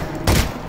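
Gunshots in Half-Life: Alyx: two sharp, loud reports less than half a second apart, with no voice.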